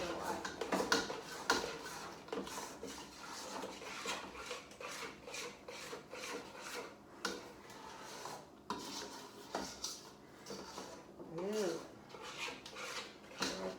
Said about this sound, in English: Keep on stirring. It's hard to stir, I don't know why.